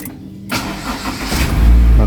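A Honda Mobilio engine starts with a keyless push-button start: a brief crank catches and swells into a loud, close idle, with a person talking over it.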